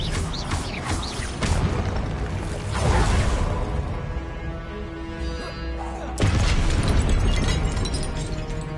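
Magic spell blasts and explosions from a Harry Potter game crackle and boom loudly in quick succession, with a dense wash of bursts, rumbling impacts and crashes throughout and a fresh sharp blast near the end.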